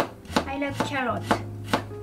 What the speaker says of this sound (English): I'm cutting carrot.